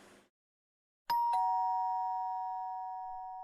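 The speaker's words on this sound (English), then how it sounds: "Sure enough, shortly after ringing the doorbell" A doorbell in the video game Cold Hearts rings out in two quick ding-dong strikes after a short silence, then rings on in a long fading tone.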